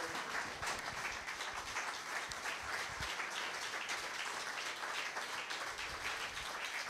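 A church congregation applauding, a dense, steady wash of many hands clapping together at even loudness for several seconds, with no voices over it.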